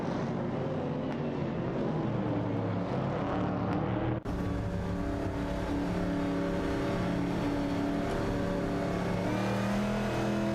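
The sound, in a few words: race cars accelerating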